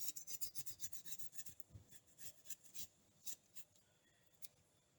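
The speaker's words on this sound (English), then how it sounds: "So I'll be scraping my ginger." Fresh ginger root scraped with a spoon, a close, dry rasping in quick repeated strokes that grow sparser and softer toward the end, with no talking.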